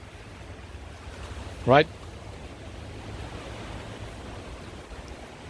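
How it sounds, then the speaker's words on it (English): Gusty wind of around 40 mph roars steadily across an outdoor tropical fruit garden, a broad continuous rush close to the microphone, broken once by a brief spoken word. "Today there are gusty winds of around what was it, 40 mile an hour winds."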